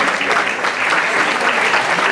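Audience applause at a New Year cake-cutting gathering of the AS Kastoria basketball club, steady, close clapping that holds at an even level throughout.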